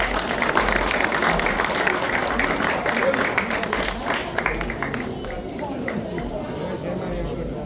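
Audience at a goat competition prize ceremony in Petit-Canal breaks into sustained applause, dense crowd clapping with chatter mixed in, easing slightly toward the end.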